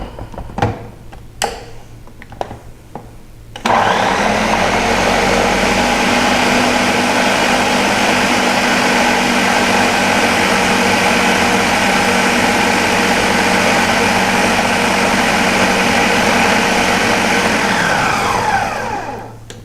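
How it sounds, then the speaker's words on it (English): Food processor whirring as it blends red pepper hummus, starting after a few handling knocks and then running as a loud, steady motor drone for about fifteen seconds before winding down, with no talk. "So we have everything that we need to go into our food processor."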